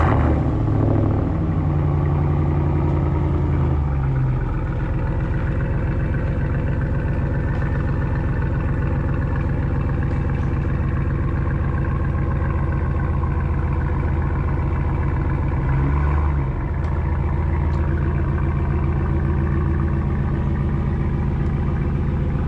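A 2012 Ram pickup on 22-inch wheels, with a drop kit, backs up onto the street: a deep engine rumble with rising revs at the start and again near the end, close and steady.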